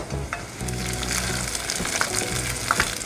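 Garlic and onions fry in a pan for pumpkin soup, a steady close sizzle and crackle with occasional stirring scrapes and small pops, no voices over it.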